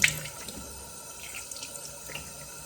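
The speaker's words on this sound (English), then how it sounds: "I just wash it off with a really warm water" Warm tap water runs from a faucet into a sink as a face is rinsed, a steady close trickle with scattered drips and splashes and no talking.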